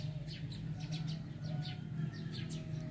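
Birds chirp outside a house in the countryside, a scatter of faint high tweets over a steady low hum, with no voices.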